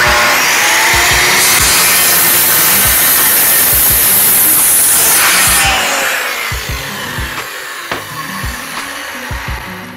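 A corded circular saw rips through 2x6 lumber, a loud, harsh whining roar with grinding wood texture that holds steady, then drops as the blade exits and the motor spins down.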